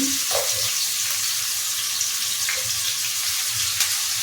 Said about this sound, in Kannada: ಇದನ್ನು ಸ್ವಲ್ಪ ಹುರಿಯೋದಕ್ಕೆ ಹಾಕ್ತಾ ಇದ್ದೀನಿ.